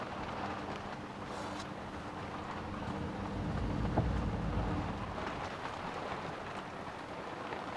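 Stormy wind and rain batter a leaky hand-built camper in the Pacific Northwest, a steady broadband roar of rain and gusting wind that swells slightly midway, with no voices.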